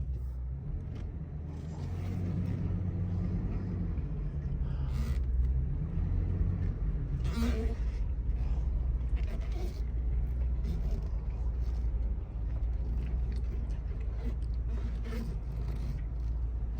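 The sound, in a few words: 2003 Ford F-350 box truck driving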